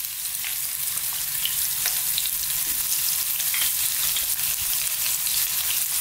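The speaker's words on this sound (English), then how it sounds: "Now we're going to go in with the onion, the garlic ginger paste," Onion and garlic-ginger paste sizzle loudly and steadily in a hot pan, a dense close frying hiss with faint stirring scrapes, no talking.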